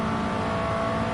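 A race car accelerates hard in Gran Turismo Sport, chasing two BMW M6s, its engine a loud, steady roar with rising whine throughout the short burst, no voices.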